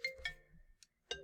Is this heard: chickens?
no